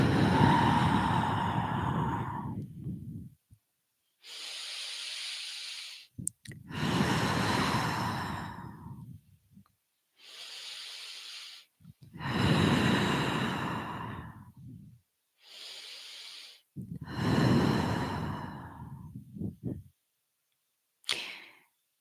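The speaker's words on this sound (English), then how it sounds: "Just taking 3 deep breaths with me." Three deep breaths taken slowly, each a long loud inhale followed by an audible exhale, close and alone, with silent gaps between them and a short breath at the very end.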